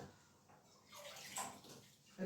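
Warm water pours and splashes into a container for pastry dough, swelling briefly then easing, with a faint gurgle near the end.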